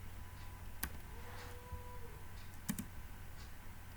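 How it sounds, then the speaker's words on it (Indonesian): A number is typed on a computer keyboard: a few sharp, faint key clicks, one single and then a quick pair, over a quiet steady hum. "mengetik angka 9."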